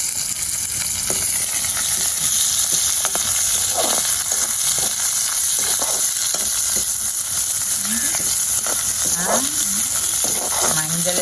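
Onions and tomato frying in a pan for a soya meat curry in Jaffna, a steady loud sizzle throughout with occasional stirring scrapes and some talking underneath.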